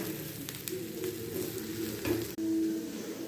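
Uttapam batter frying on a hot pan after oil is poured in, a steady close sizzle with light stirring and scraping sounds.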